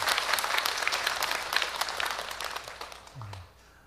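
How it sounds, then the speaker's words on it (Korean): A church congregation at a Sunday worship service applauds with a brisk round of clapping that gradually thins and trails off into quiet room tone near the end. "우리 영화부 가족들을 위해서 한번 박수,"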